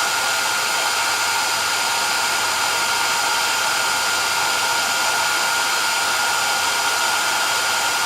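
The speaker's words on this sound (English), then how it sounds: "I actually don't know how bad this sounds with the hairdryer on" A hair dryer blows with a constant, loud, even whoosh from start to finish, no pauses or voices.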